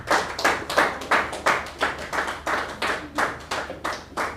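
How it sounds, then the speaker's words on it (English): An audience at an entrepreneurship bootcamp claps steadily, each clap crisp and distinct in an even rhythm, sustained at moderate volume with no talk over it. "let's keep clapping"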